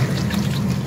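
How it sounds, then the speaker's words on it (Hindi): Water pours into a pot of cooking urad lentils for daal mash, a loud, continuous gushing splash filling the brief moment. "हसबे ज़रूरत पानी शामिल करेंगे दाल के अंदर।"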